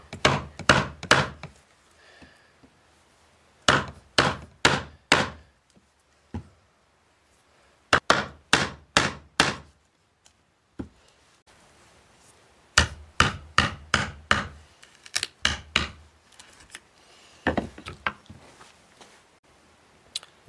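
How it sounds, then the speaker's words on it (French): A Fiskars carpenter's knife strikes into wood as it carves, giving sharp knocking blows in quick bursts of three to five, separated by short pauses, close and fairly loud. "le couteau de charpentier est fait pour reprendre des entailles ou des mortaises, mais on peut creuser le bois"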